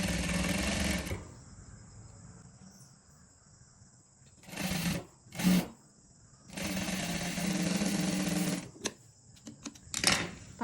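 A domestic sewing machine stitches a saree blouse in bursts: a long run at the start, two short quick spurts in the middle, then another long run, with quiet pauses between and a steady high whine throughout.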